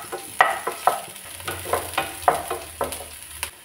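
Chopped onion and green chili frying in a little white oil, stirred with a spatula: a dozen rhythmic scraping strokes over a soft, continuous sizzle, close up, with no talk.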